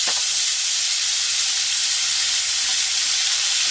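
Ginger garlic paste hitting melted butter in a pan for palak paneer, a loud, close, continuous hiss and sizzle that stays steady throughout with no talking.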